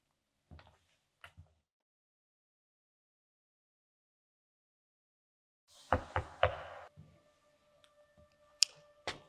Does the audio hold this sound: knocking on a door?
yes